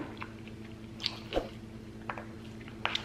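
Someone eats leftover Cinco de Mayo taco filling with hot sauce, without a shell, close up, making soft, wet chewing and smacking sounds with occasional small bites over a low background hum.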